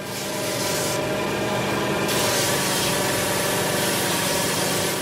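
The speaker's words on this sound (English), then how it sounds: "The sanding machine has speeded up this part of the job." A sanding machine smooths an ash hurley in a Kilkenny workshop, a loud, steady abrasive whirring rub that continues unbroken and close, with a slight shift in tone partway through.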